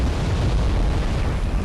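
Heavy, dense boom-like roar from a Bradley autocannon firing in the video game Wargame: European Escalation, a continuous low rumble of explosive bursts filling the short stretch without clear separate shots.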